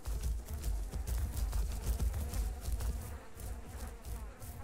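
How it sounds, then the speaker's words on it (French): Flies buzz around a carcass in the dinosaur survival game Path of Titans, a steady dense insect drone with low rumbling underneath, continuous and fairly faint with no talk. "Ouais, les mouches, ouais."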